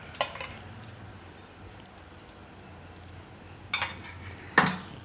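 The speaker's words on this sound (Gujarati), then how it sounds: "આને આપણે ધીમે તાપે શેકી લઈશું." A spoon or spatula scrapes and clinks against a pan while poha roasts in ghee over low heat, a few sharp metallic knocks standing out over a quiet, faintly hissing background.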